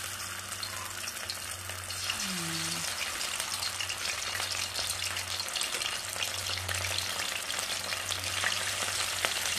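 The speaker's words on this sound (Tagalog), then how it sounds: "Fry na natin kasi may pinakulo lang tayong mantika." Shrimp coated in crispy fry mix frying in hot oil, a steady loud sizzle and bubbling crackle that fills the whole stretch without any talk.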